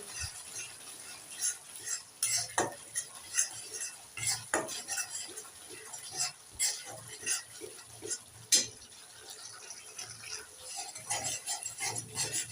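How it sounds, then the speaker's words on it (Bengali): Spice paste with a spoonful of chili powder gets stirred in a pan for a fish and taro curry, metal spoon scraping and clinking against the pan in an uneven rhythm over a faint sizzle, no voices. "এবার দিয়ে দেব এক চামচ লঙ্কা গুঁড়ো একটু নেড়ে চেড়ে দিয়ে দেবো"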